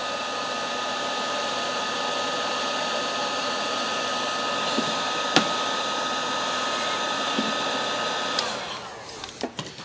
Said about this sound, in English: there's a handy tool called a heat gun. We'll just loosen that right up.